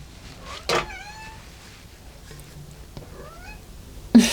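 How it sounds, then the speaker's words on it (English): A pet cat meows indoors, a loud drawn-out call near the start followed by a softer rising meow around the middle and a sharp short sound at the end, with quiet room tone between. "I'm sorry if you can hear my little feline friend."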